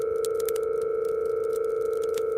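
A steady phone dial tone hums continuously at even loudness while emergency services are being called, with faint ticking background noise and no voices.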